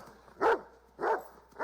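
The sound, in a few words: dog barking in the film Signs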